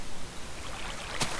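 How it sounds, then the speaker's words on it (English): Water placed in Minecraft gives a soft flowing splash, a faint trickling wash with a brief bright burst near the end, quiet and alone. "And I'm going to throw the water here."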